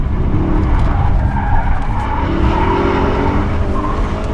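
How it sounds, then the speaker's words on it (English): A BMW 320d xDrive M Sport spins around on a small patch of tarmac, its tyres skidding and scrubbing loudly and continuously over the engine's drone for the whole stretch. "I'll spin it around this little bit of tarmac."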